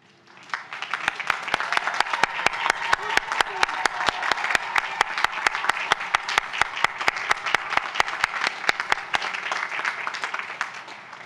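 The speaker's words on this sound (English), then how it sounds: "all of us may applaud and thank you" A crowd applauds steadily and warmly for about ten seconds at a university commencement ceremony, the clapping rising quickly and holding at a full, even level before fading.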